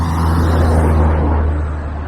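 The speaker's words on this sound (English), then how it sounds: "there is a fair amount of traffic" Road traffic rushes past, a close, loud vehicle whoosh with a deep steady engine rumble that fades slightly at the end; no talking.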